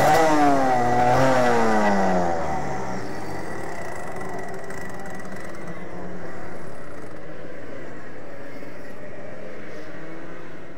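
A motorcycle engine revs high and then drops away as drive is lost after the clutch nut comes off, its loud rising note fading into a lower, steadier running sound with no talk.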